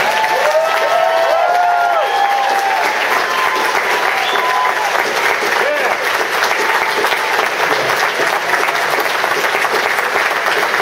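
A large audience at a regional business event in Kansas City gives new brand partners loud, sustained applause with some cheering mixed in. Overlapping talk and shouts rise over the dense clapping throughout.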